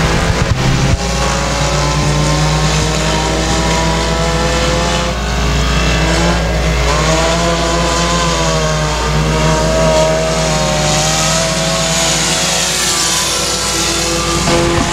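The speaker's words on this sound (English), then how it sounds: "Made a 3-wide pass down the front straightaway on the restart" Dirt track race cars roar around Boothill Speedway, a loud sustained multi-engine drone with shifting engine pitches as cars pass and accelerate, close and continuous with no talk.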